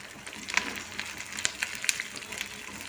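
Curry leaves crackling in hot oil in a pan while Maggi noodles are prepared, a steady soft sizzle broken by small sharp pops, heard fairly close with no talking.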